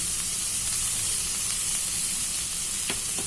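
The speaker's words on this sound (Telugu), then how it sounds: "కొద్దిగా పసుపు వేసుకొని వేయించుకుంటాం." Rice fries with turmeric in a pan, making a steady, dense sizzling hiss close by, broken by a couple of faint stirring scrapes near the end.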